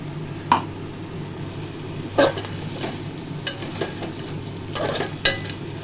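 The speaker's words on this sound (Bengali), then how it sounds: "এটা আদা রসুন আর টমেটো গ্রাইন্ড করে দিয়ে দিলাম" Ground ginger, garlic and tomato paste frying in a pan for a chickpea and jackfruit dal, a low steady sizzle punctuated by several sharp spatula scrapes and clinks at uneven intervals; close, with no speech.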